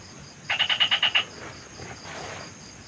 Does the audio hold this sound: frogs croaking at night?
yes